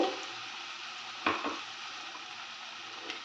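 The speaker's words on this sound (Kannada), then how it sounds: "ಮೆಂತ್ಯ ಸೊಪ್ಪು ಪುದೀನ ಸೊಪ್ಪು ಮತ್ತು ಕೊತ್ತಂಬರಿ ಸೊಪ್ಪನ್ನ ಫ್ರೈ ಮಾಡ್ಕೊಳ್ತಾ ಇದ್ದೀನಿ" Fenugreek, mint and coriander leaves fry in oil with chopped onion, tomato, green chilli and fennel seeds, giving a soft, steady sizzle close by, broken by a couple of brief stirring scrapes against the pan.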